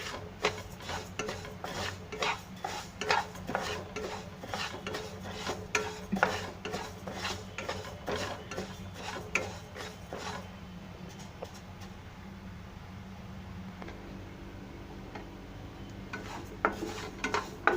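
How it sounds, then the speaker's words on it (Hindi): Flaxseed dry-roasting in a pan over medium heat, stirred with steady scraping and rattling strokes against the metal, a rhythmic run of close scrapes that settles into a softer hiss near the end. "ये हम अलसी को रोस्ट करेंगे 3-4 मिनट मीडियम हीट पर"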